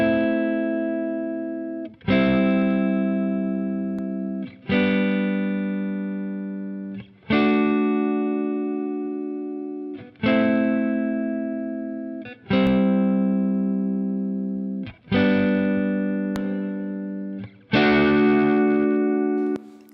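Electric guitar track run through a Line 6 Helix with distortion and effects, strummed chords ringing in eight evenly spaced sustained hits about every two and a half seconds, loud and alone.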